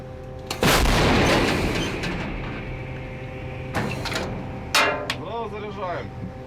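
A 155 mm self-propelled artillery gun fires one thunderous blast with a long rumbling tail, followed by heavy mechanical clanks and a second sharp impact, with voices shouting nearby.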